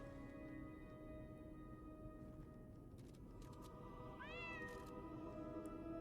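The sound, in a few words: cat meowing in Lies of P video game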